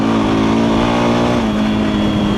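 A Honda Hornet motorcycle engine revs loud and close, a steady throttle-up that climbs and holds at high pitch, with no one talking.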